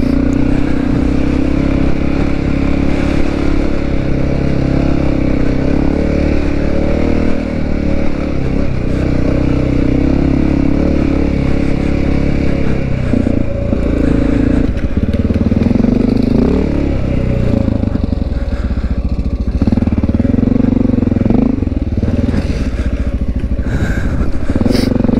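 A Honda XR650L motorcycle ridden along the beach at Hover ORV Park, its engine droning loud and close throughout, rising and falling with throttle changes under rushing wind.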